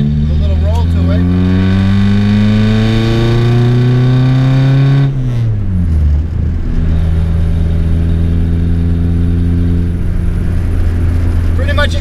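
A 134,000-mile Mk1 VW Rabbit Diesel pulls away from a rolling start in second gear. The engine drone climbs steadily, drops at a shift, then climbs again, loud and close inside the car, with someone talking over it.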